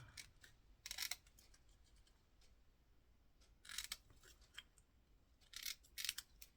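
Scissors snip through paper at a crafting table, heard as short, soft clusters of crisp cuts with quiet pauses between them and no talking.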